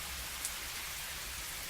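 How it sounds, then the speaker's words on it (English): Steady rain patters continuously, a dense, even hiss of drops on surfaces that stays moderately loud and unchanging, with no voices present. "the rain's apathetic pattering"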